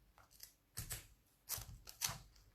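Several sharp snipping cuts, irregularly spaced, close and crisp, as scissors slice through tape in a quiet room.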